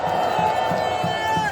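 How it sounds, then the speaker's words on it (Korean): A crowd at an outdoor political rally in Yeouido, Seoul cheers and shouts together, a loud, sustained wash of many voices with a rising call near the end. "여러분 큰 박수 부탁드리겠습니다."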